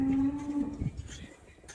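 An HF cow at a cattle market lets out a single close, loud moo that trails off into background noise.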